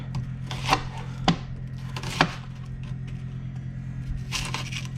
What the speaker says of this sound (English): Don't have to get too fancy here with the chopping.